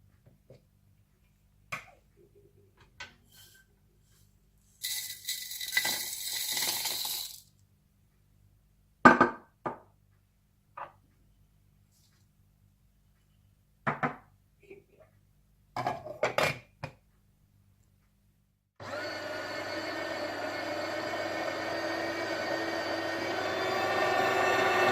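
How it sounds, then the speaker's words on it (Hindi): A coffee grinder pulverizes dahi bara spice masala. A few sharp clinks and rattles of handling come first, then a steady, loud whirring grind runs to the end, with no talking. "मैं अब इसे काफी ग्राइंडर में पीस लूंगी।"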